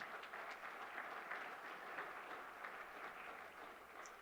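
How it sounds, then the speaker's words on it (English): Faint, distant clapping from the audience at a town hall meeting on homeless solutions, holding as an even, continuous patter for about four seconds. "Pause for the claps, right?"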